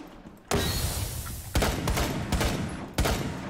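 Sharp gunshots in Rainbow Six Siege, four sudden cracks spaced irregularly, each leaving a long noisy tail that blurs into the next.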